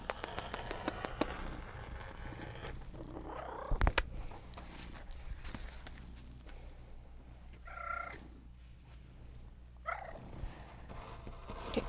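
A cat purrs softly in a quiet indoor room, a low continuous rumble with a few faint bumps and brief higher sounds mixed in.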